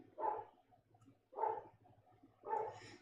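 Dogs barking indoors, three separate barks about a second apart, faint and somewhat distant, with no talk.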